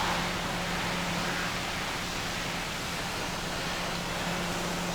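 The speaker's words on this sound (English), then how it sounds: "we'll give the tractor a rinse, but I won't wash the toolbox." Steady hiss of a pressure washer rinsing a tractor in Farming Simulator 17, a continuous broad spray held at even loudness throughout with no talk.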